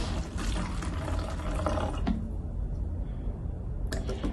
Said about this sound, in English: you're gonna pour some of the vinegar into the bottle